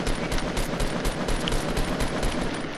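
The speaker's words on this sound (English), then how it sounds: "I'm shooting this tree down." Rapid, continuous automatic gunfire in Fortnite aimed at bringing a tree down, loud and close, a dense unbroken burst of shots with no talking.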